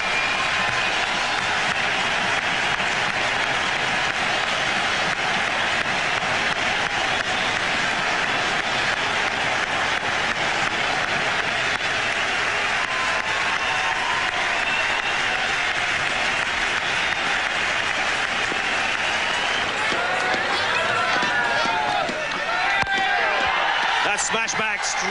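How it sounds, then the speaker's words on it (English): A cricket stadium crowd gives a sustained, roaring ovation for a one-day international century, with steady applause and cheering throughout and a commentator talking over it. "Tremendous ovation here from the crowd."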